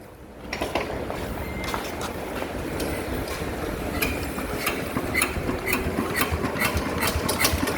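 Yanmar 150 single-cylinder diesel engine, not yet tuned, firing up and settling into a steady, loud close-up idle with a continuous rhythmic chug.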